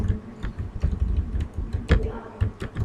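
Someone types Python code on a computer keyboard, a close, irregular patter of key clicks with occasional heavier thumps.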